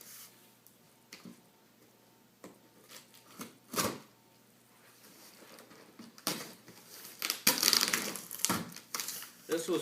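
The shipping box of a Honda EU2000i generator being opened, with close cardboard rustles, tearing and scattered thumps of varying loudness that grow busier toward the end.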